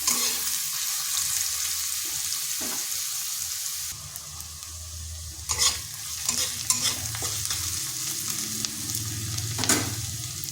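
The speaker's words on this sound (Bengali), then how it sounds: "পেঁয়াজটাকে একটু ভেজে নেব।" Finely chopped onions fry and sizzle in a pan and are stirred with a spoon, giving a steady crackling hiss broken by a few louder scraping stirs.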